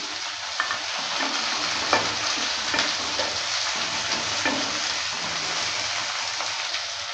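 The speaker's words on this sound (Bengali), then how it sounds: "টমেটোটা দেওয়ার পর ভালো করে আবারও নেড়ে নিচ্ছে।" Chopped tomato being stirred into frying onions in a pan, a steady close sizzle with scraping spoon strokes and occasional clicks running continuously.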